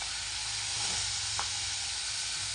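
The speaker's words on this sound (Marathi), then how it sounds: "कमी गॅसवर म्हणजे अशी तळू दिली ना तर मस्त शिजती" Food shallow-frying in oil over a very low gas flame, a steady soft sizzle and hiss holding evenly throughout at close range.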